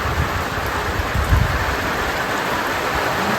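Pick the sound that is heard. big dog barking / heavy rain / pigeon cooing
heavy rain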